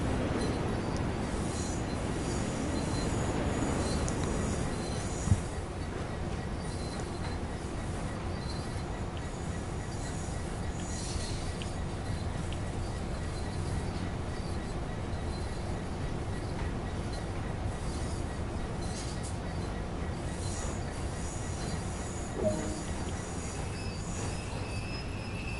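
An HST train rolls past in the Train Sim World game, a continuous rumble of rail noise with squealing wheels, heavier at first and then settling into a steady wash with occasional clunks.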